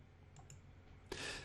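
A single sharp computer mouse right-click from a spreadsheet session, faint and close, followed by a short burst of soft room noise.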